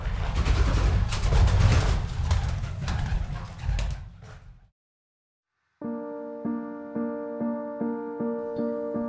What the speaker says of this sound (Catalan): El xalet de Barry s'ha convertit en un casalot fantasma habitat per moixos i coloms